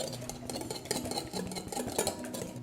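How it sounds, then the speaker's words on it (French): Eggs whisked in a bowl for a chocolate bûche roulée, giving a steady run of close clinks and scraping strokes against the bowl, moderately loud and without speech. "je vais mélanger les œufs"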